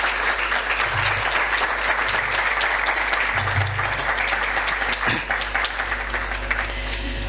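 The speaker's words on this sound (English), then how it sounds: "Give them a round of applause" Sustained applause from an audience at a postgraduate awards ceremony, dense steady clapping filling the hall throughout, slightly easing toward the end.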